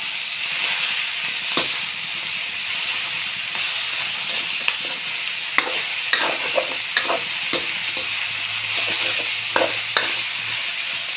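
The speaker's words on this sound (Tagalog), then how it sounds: "Gisahin mo muna natin siya." Cabbage and pork sautéing in a pan over a strong flame, a steady sizzling hiss with scattered sharp clicks and scrapes of stirring throughout, close and fairly loud, no talking.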